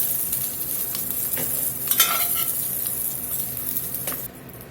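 Browned sausage stirred in a pot for New Orleans red beans and rice, a steady sizzle and fry with scraping stir strokes and a brief clatter of pieces being lifted out, close and continuous before cutting off.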